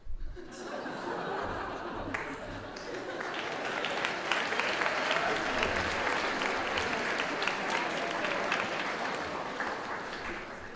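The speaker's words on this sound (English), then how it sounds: "Thanks, Roberto, for leading off the clapping there." A church service audience claps loudly and continuously for several seconds, scattered laughter mixed into the applause.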